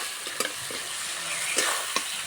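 Tomatoes frying in a pan for a chicken curry with new potatoes, a steady sizzle with occasional stirring scrapes and light spatters, close and alone without talk.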